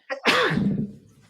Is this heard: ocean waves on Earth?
no